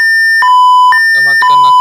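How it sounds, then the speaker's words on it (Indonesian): A bread oven's temperature alarm at 220 degrees gives loud, steady electronic tones that alternate between two pitches in rapid cycles, with a brief burst of voice near the end. "Oke, alarm bisa menyala."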